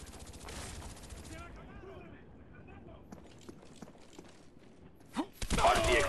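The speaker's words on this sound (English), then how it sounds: "The aircraft carrier. Aircraft gun." Automatic aircraft gunfire in the Call of Duty Black Ops video game, heard as sharp loud bursts near the end over a busy layer of game noise and player chatter.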